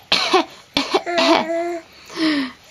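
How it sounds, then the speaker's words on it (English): Baby around nine to ten months old making playful fake coughs, several short close bursts mixed with giggly voiced squeals and a rising-falling hum. "You learnt to fake cough."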